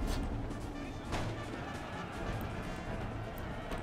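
Musket volleys from line infantry in Empire: Total War, a steady low rumble of massed gunfire with several muffled bursts against continuous battlefield noise, moderately loud and distant.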